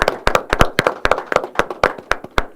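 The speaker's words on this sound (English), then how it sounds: "Let's give them all a round of applause." Attendees at a county board of supervisors meeting clap in a brief round of applause, sharp and fairly close, with a handful of hands beating in quick, uneven rhythm.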